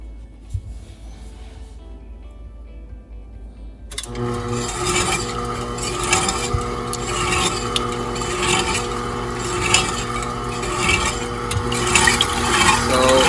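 An electric mixer on its stir setting beats chocolate cake batter from a box mix, starting abruptly after a quiet moment and then running as a steady, close whirring grind with a rasping scrape against the bowl.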